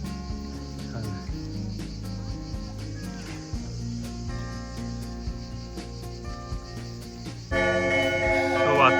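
At Bagrati Cathedral in Kutaisi, a priest rings a church bell in repeated clanging strokes at a distance, layered over insect-like chirping, with a louder burst of sound near the end.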